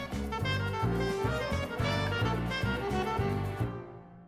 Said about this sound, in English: If you look at the velocity here, you can see it looks really disjointed.